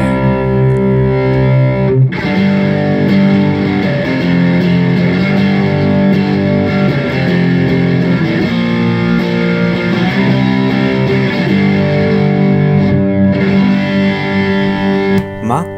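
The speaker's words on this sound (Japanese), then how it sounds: "マックスにするともうこれ完全に歪みエフェクターですわ。 もうオーバードライブ並み。" Electric guitar driven through an MXR Micro Amp clean booster turned to maximum, giving a thick, overdrive-like distorted tone; loud sustained chords ring continuously throughout after a brief gap near the start.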